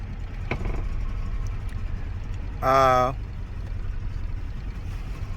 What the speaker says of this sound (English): let me shut off the car